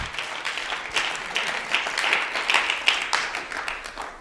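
A church congregation claps in praise, a lively burst of many hands with uneven swells and sharp individual claps, fairly close and loud, with no talking over it.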